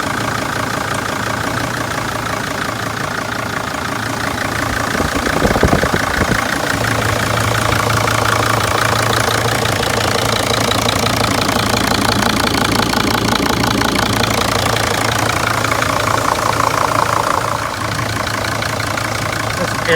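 A Sprinter van engine idles with a steady, low rumbling hum that swells slightly midway, while someone talks over it.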